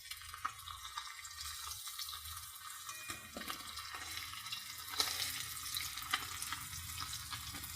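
Rohu fish pieces fry in oil and are turned over in the pan, making a quiet, steady sizzle with occasional clinks and a faint running-water wash behind it.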